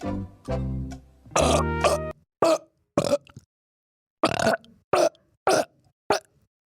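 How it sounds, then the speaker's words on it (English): A long series of loud, croaky burps, some drawn out and tonal, then several short choppy belches in quick succession, close and alone. "brewing up a burp as we speak"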